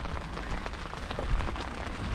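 Steady rain falls on an outdoor site with ancient ruins in Ayutthaya during a storm, a dense continuous hiss of drops at moderate level with no talk.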